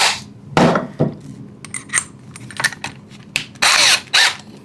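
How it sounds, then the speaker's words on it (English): Cordless power drill working on a door during a dog door installation, several short bursts of whirring and clicking with pauses and handling knocks between, close and fairly loud. "my drill, remove the door, and cut the hole."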